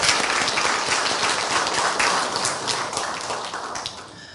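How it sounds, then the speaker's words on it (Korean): Chapel audience at a university service applauds in encouragement, a dense, steady wash of many hands clapping that fills the room and gently tapers toward the end. "우리 격려의 박수 하겠습니다"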